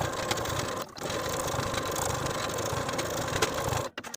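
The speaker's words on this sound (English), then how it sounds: "Then we're going to take our collar to the sewing machine and edge stitch close to those outer edges all the way around." Edge stitching along a jacket collar, a sewing machine runs in a steady, moderately quiet whir with a brief pause near the start and a stop at the end.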